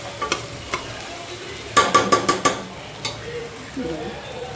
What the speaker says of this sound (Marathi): आता आपण भात ॲड केलाय, राईस ॲड केलाय आम्ही. चांगलं चांगलं मिक्स करायचं त्याला आता